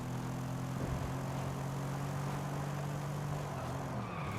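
A racing car engine drones steadily in Forza Horizon 5, a continuous loud hum with tonal harmonics that shift slightly in pitch as the car slows for turns.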